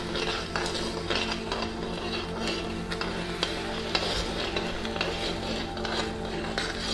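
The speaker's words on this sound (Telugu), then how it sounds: "ఇట్లా పాకం వస్తున్నప్పుడు ఈ రవ్వ వేసుకొని కలుపుకోవాలి." Semolina is stirred into boiling sugar syrup for rava laddu, with a steady bubbling hiss and rapid, regular scraping and clinking of a spoon against the pan, close and continuous.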